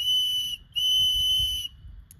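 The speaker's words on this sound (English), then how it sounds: "And it also has a whistle on it too." A small plastic whistle built into a survival compass is blown twice, each a shrill, loud steady tone, the first about half a second and the second nearly a second long, with a brief pause between.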